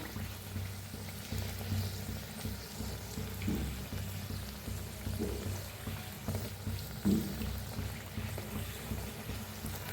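Potato puris deep-frying in hot oil, a continuous even sizzle with gentle bubbling over a low steady hum, holding at one level throughout.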